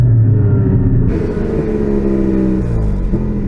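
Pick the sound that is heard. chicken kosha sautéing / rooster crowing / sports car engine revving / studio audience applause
sports car engine revving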